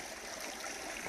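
Creek water flowing steadily, a soft continuous rushing and trickling wash heard faintly outdoors with no other sounds.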